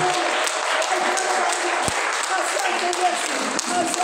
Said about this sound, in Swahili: Weka mikono yako pamoja, shangwe na vigelegele kwa Bwana Yesu.